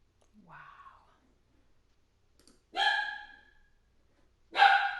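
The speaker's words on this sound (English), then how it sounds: "Dog." A dog gives two sharp close barks a couple of seconds apart, following a softer whine-like vocal at the start, with near silence between.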